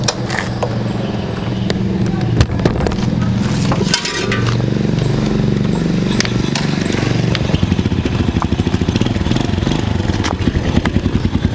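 An older Yamaha Supra motorcycle, long unused and being kick-started to bring the oil up, clatters loudly up close. A rapid, even piston beat steadies and grows denser after about four seconds, with a voice briefly over it.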